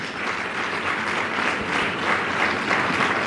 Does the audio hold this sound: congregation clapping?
yes